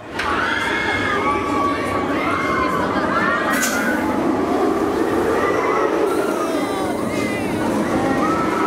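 A roller coaster train at Thorpe Park rumbles and squeals along its track nearby, with metallic screeching wheels over steady roaring noise and a crowd murmuring in the background.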